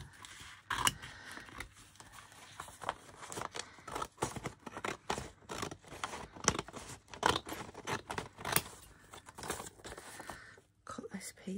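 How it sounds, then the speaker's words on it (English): Scissors snip repeatedly through A4 paper while a collage masterboard is cut up, a close, uneven run of sharp crisp cuts and rustling with short pauses between strokes. "Get my scissors and I cut up."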